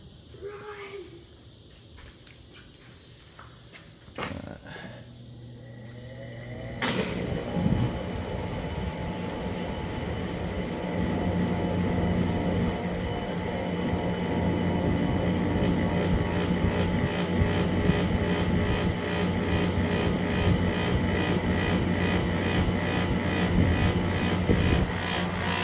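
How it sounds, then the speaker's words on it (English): A 2003 Kenmore window air conditioner starts up with a click and thump, then its loud compressor settles into a steady droning hum with a faint rhythmic pulsation, running continuously and close by. "Compressor is still loud. It still has that pulsating"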